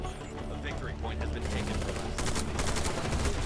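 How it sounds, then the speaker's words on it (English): Rapid bursts of rifle fire in the shooter-strategy game Eximius: Seize the Frontline, loud and sustained, with clustered shots and chattering reports layered over distant battle noise. "You have to do burst fire mostly."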